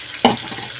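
Water splashes into a pan of sizzling spiced masala for a puti fish curry, one short burst of pouring with a hiss that quickly settles into a low background simmer.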